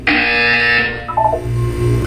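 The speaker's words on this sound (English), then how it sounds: "You will hear a buzzer." A buzzer sounds in the Portal 2 video game: a loud, harsh electronic tone held for about a second, then lower fading tones.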